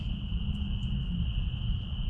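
Crickets chirp at night in the woods beside an urban tarp campsite, a steady high continuous trill over low rumbling background noise, moderately faint and unbroken throughout.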